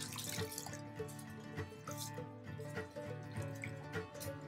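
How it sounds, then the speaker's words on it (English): Water drips and trickles as a soaked tie-dyed shirt is wrung out by hand, a faint, close patter of drops and small splashes over a quiet background. "You want to wring it out as much as you can."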